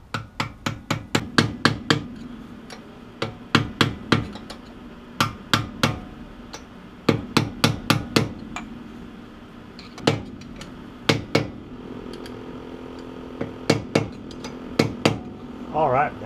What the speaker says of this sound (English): I'm going to go around this with my screwdriver here.